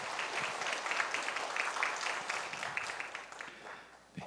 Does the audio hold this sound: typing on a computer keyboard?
no